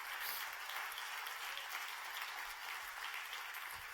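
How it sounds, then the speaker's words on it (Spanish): A church congregation applauding during a sermon, a continuous wash of many hands clapping, fairly distant and soft, with no voice over it. "Dale ese aplauso a Dios si lo recibes."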